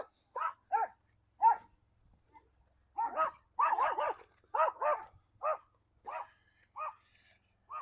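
Two little dogs behind a residential fence bark in quick, irregular bursts of high yaps, fairly close and outdoors with no talking.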